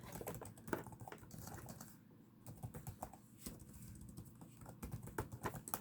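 Keys clatter on a computer keyboard in irregular bursts of close, quiet taps, pausing briefly between words.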